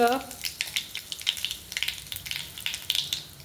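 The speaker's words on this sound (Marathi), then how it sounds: "तेल गरम करायचं कडल्यामध्ये आपल्याला जिरे मोहरी हिंग" Cumin, mustard seeds and hing sizzle in hot oil in a kadhai for a tadka over tomato bharit, a dense, steady crackling fry with busy spitting pops throughout.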